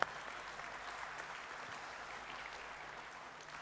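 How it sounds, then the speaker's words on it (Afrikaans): A church congregation claps for new members, with one sharp clap at the start and then a sustained, even round of applause from many people that fades slightly toward the end. "Kom ons gee vir hulle 'n groot hande klap."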